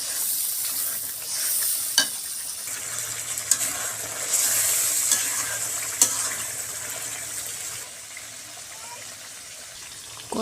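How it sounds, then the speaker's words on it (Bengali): Spices and beef sautéing in a pot, a steady sizzle with stirring scrapes and a few sharp clinks, close by and continuous. "মশলাগুলো কষিয়ে নিচ্ছি।"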